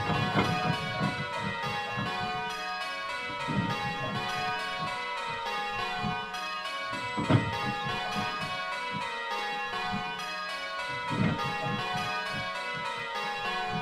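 Several bells on a bell-ringing simulator ring in a steady repeating sequence, their overlapping metallic tones sustaining and blending like a peal of church bells.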